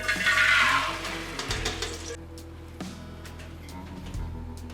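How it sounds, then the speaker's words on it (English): Tap water runs in a kitchen sink as beans are rinsed, a steady rushing spray that fades after a couple of seconds into quieter dribbling and faint clatter. "And we're also going to rinse our beans."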